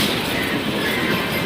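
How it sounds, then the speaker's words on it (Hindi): The Lichchavi Express with new LHB coaches rolls along a station platform, giving off a steady, loud rumble and rush with no distinct clacks in this short stretch. "गाइस हमारी ट्रेन आ चुकी है प्लेटफॉर्म नंबर 3 पे"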